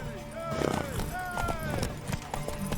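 Horse hooves clip-clop in The Witcher 3: Wild Hunt, a quick uneven trotting rhythm at moderate distance under a blend of game music and ambient tones, with voices speaking over part of it.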